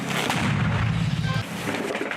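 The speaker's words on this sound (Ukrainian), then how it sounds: "Отак, кілька мін випустили" A deep, heavy boom from a fired mortar rolls out, its low rumble lingering and fading under steady outdoor noise, on a Ukrainian front line.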